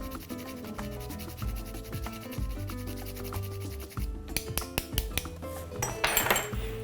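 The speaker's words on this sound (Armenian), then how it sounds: "մոտ կես թեյ գտալ մշկնկույս ենք քերում վրան" Nutmeg grated over a pork and potato casserole: a close, rhythmic rasping scrape repeats over a steady low hum, followed by a few brighter scratchy strokes and light clinks.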